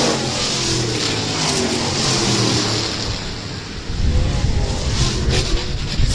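Stock cars roar past in a heat race at Rapid Speedway, their engines loud and continuous, with a harder, closer burst of revving in the second half.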